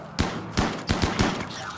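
Gunfire in the video game Rimworld: several sharp shots in an uneven burst, close and fairly loud, over a steady background bed.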